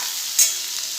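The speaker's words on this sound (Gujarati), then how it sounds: "એક કેપ્સિકમ લીધું છે, એને પણ આપણે ફાસ્ટ ગેસ પર જ સાતળી લઈશું" Deseeded, sliced tomato and capsicum sautéing over a high gas flame, a soft steady sizzle with a brief stir-like scrape near the middle, close and continuous with no talking.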